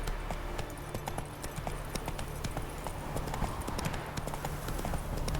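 Hooves clip-clop rapidly and steadily as a horse gallops in The Witcher 3: Wild Hunt, the rhythmic beats loud and close over a constant low game ambience, with no talk.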